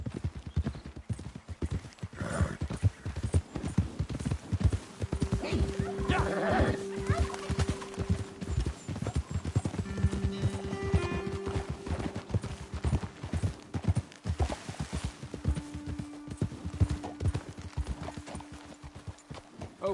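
Horse hooves clip-clop steadily at a walking pace in a PS4 video game, a dense rhythmic patter close by, with a faint tonal hum drifting underneath.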